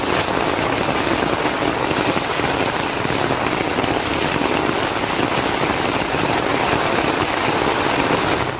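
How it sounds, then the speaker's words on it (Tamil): Heavy downpour in Tamil Nadu and Puducherry, a dense, steady hiss of rain pounding surfaces throughout, loud and close with no voices. "தமிழகம், புதுவையில் பல்வேறு பகுதிகளில் வெளுத்து வாங்கிய மழை"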